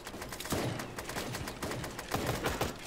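Rapid bursts of gunfire from the game Super Animal Royale, dense and continuous at moderate level with sharp repeated pops and no voices.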